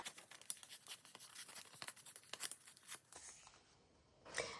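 Paper strips being torn by hand for a soft-spine junk journal, a series of short dry rips and crinkles close up over about three seconds, then a quieter pause and one last brief tear.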